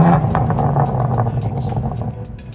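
A 2022 BMW M4 Competition revs loudly nearby with its exhaust valves open, a sustained throaty roar with rising and falling engine surges that runs the whole clip.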